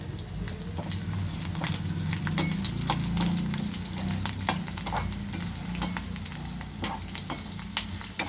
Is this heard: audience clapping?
no